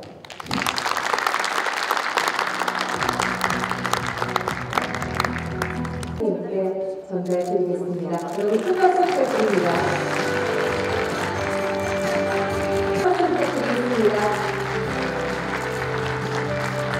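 Audience applause at an international COVID-19 symposium in Daegu, a sustained wash of clapping with a host's voice speaking over it through much of the stretch.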